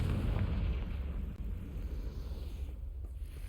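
A deep, rumbling blast from the Confringo spell in Hogwarts Legacy, heavy low boom filling the whole moment and slowly rolling off, with no speech over it.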